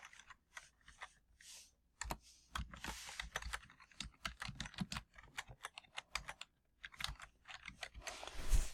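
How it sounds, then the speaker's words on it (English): Computer keyboard typing into a text box, irregular bursts of quick clacking keystrokes with brief pauses between runs, close and quiet, ending with a slightly louder tap. "and then you type your text"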